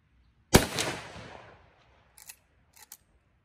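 A single loud, close rifle shot from a Winchester Model 94 in .32 Special cracks sharply and rings off over about a second, followed by a few faint clicks of handling.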